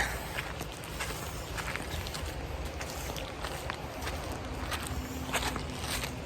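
Footsteps of people strolling around a campsite crunch steadily underfoot, close and continuous over a soft background hiss.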